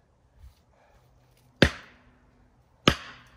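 Two sharp, heavy axe blows into a tree trunk during hand felling, about a second apart, each ringing briefly before fading into quiet outdoor ambience.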